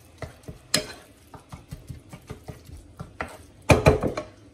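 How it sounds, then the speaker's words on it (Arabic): Spoon stirring and scraping a quiche filling of minced meat in a bowl, with a series of uneven close clicks and scrapes that build to a louder burst of clatter near the end. "نخلطو كلشي بحال هكايا حتى يتخلط مزيان"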